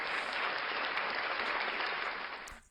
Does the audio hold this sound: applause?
yes